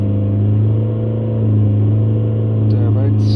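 A diesel van engine held at high revs, around 3000 RPM, during a DPF pressure check on a van with a blocked particulate filter, giving a loud steady drone throughout with a voice briefly over it near the end.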